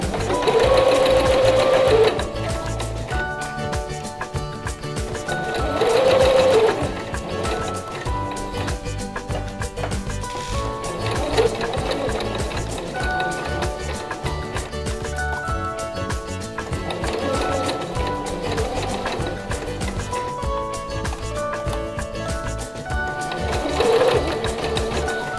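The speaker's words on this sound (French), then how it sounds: "il faut commencer votre couture par quelques points en marche arrière" A sewing machine stitching gathers in fabric, starting with a few backstitches, a continuous close mechanical whirring with rapid needle ticking and brief louder surges.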